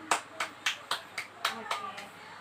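Children in a second-grade classroom clap in unison for their groups. The claps come as a quick run of about eight sharp, evenly spaced beats, then trail into softer scattered claps, with faint voices underneath.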